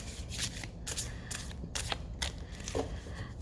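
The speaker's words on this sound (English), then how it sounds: "Okay, let's do another shuffle." A deck of cards is shuffled at close range in several quick riffling bursts separated by short pauses, with no voices.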